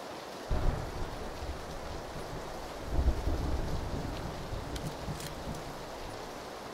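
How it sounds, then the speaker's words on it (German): Steady rain in the video game PlayerUnknown's Battlegrounds hisses throughout with a low rumbling underneath and a couple of brief swells, no voices present. "ich mag den Regen nicht, der ist mir viel zu laut"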